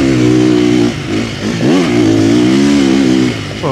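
A motorcycle accelerating hard nearby, its engine note rising and falling through loud revving pulls with a brief dip between gear changes.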